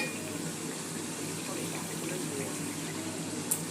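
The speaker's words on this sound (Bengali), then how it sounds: "তারপরে এর মধ্যে জল দিচ্ছে" Water runs steadily into a cooking pan that holds ginger, a continuous splashing gush for the whole stretch with a faint clink near the end and no one talking.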